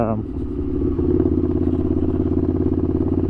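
A Ducati Scrambler motorcycle engine runs steadily while riding, a loud, close mid-pitched throb that rises slightly after the first second and keeps a rapid pulsing beat.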